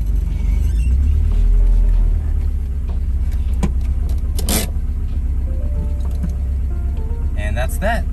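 A Mazda Miata's engine hums low and steady as the car creeps forward, with occasional faint clicks and a brief tonal chirp near the end.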